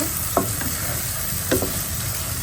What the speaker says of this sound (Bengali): খুব ভালো করে ভোনা করে নিচ্ছি